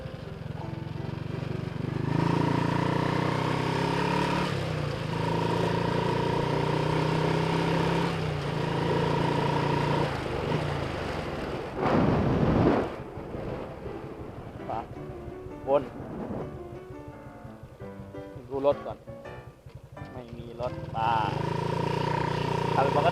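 A Honda Wave 110i motorcycle with stock injector and throttle body runs steadily while being ridden, its engine drone loud and continuous at first, then broken up by wind buffeting and rumble before settling again. No one talks.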